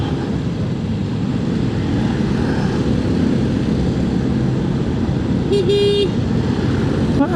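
Dense traffic jam on a rainy street in Palembang, heard from a motorbike, with a steady low rumble of engines and a single car horn toot near the end.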